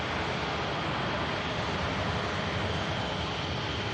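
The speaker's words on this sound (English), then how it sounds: "Another beautiful heavy takeoff coming up, ladies and gents." A heavy aircraft takes off at Manchester Airport, its engines producing a loud, continuous broadband roar that holds steady for the whole stretch, with no talking over it.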